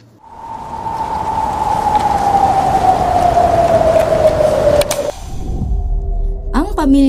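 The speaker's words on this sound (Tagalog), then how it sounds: "Dahil sa malakas na pagbugso ng ulan" Heavy typhoon rain pours in a loud, dense roar that swells and holds, overlaid with a long descending musical tone, before breaking off into a rumbling thunder-like low end and a brief tonal flourish.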